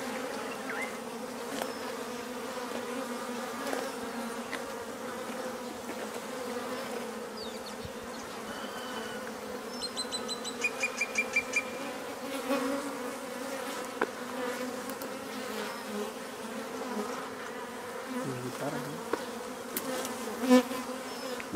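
Honeybees swarm with a sustained, close buzzing during a hive rescue around a pollen-filled comb, the steady drone running on for a long stretch, broken by a few faint clicks and brief chirps, with no talking.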